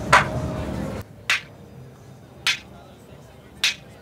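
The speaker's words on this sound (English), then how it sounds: "with the filter, you can basically get more of a clap sound" A WMD Fracture drum module plays a synthesized clap shaped by its filter: one sharp, bright hit, then three more evenly spaced at about one-second intervals, each short and dry against a quiet background.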